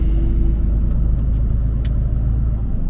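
A truck's engine idling in a low, steady rumble while the driver backs slowly into a customer's loading dock in the early morning, loud and close, with no talk and only a couple of faint high clicks.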